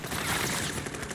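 Rapid burst of gunfire from the Blixen gun in the Warzone video game, a dense, fast string of shots packed into about a second, loud and continuous.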